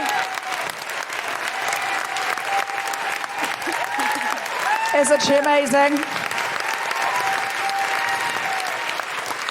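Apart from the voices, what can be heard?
comedy podcast audience applause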